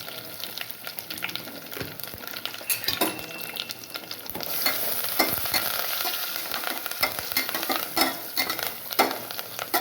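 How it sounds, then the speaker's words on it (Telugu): Tempering spices for an instant tomato pickle, with sesame seeds and asafoetida, sizzle in hot oil while a spoon stirs and scrapes the pan. The close, crackling fry swells louder midway, with no speech. "పోపు వేయడం చూపిస్తున్నాను మీకు."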